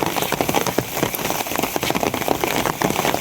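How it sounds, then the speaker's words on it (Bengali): Steady rain pattering on a surface at night in rural Bangladesh, a dense continuous patter of drops with scattered louder crackling hits, close and fairly loud, no voices. "বৃষ্টি শুরু হয়ে গেছে"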